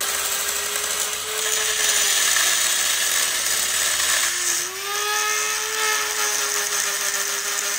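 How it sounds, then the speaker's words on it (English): Mastercraft Dremel rotary grinder running steadily with a high whine, working on a BRZ/FRS camber part, near and loud throughout, its pitch dipping briefly under load partway through. "got the nice mechanical grinder. These boys we're going away with this Maximum Mastercraft Dremel."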